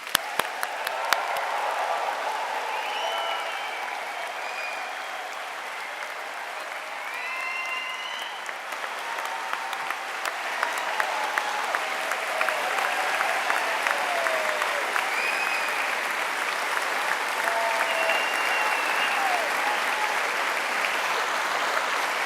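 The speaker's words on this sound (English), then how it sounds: "I just want to ask everyone in the room to make a final round of applause" Sustained applause from a graduation ceremony audience fills the room, a steady dense wash of clapping with scattered whoops and cheers that holds for over twenty seconds.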